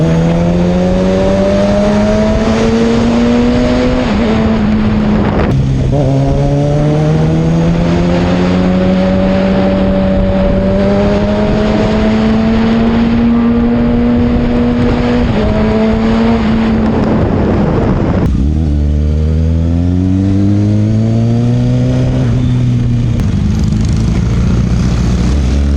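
A Kawasaki ZX-6R sport motorcycle engine with a loud M4 aftermarket exhaust drones close by, pitch rising and falling through several gear changes, raw and raspy.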